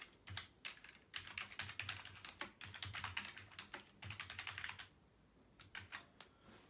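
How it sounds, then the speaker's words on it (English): Fingers typing on a wireless keyboard in Microsoft Word on an older MacBook Pro: quiet, close clusters of rapid key clicks in bursts, pausing briefly before a last short run of taps, no voices. "Let's now type something."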